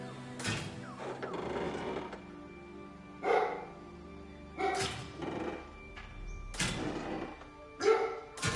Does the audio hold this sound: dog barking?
yes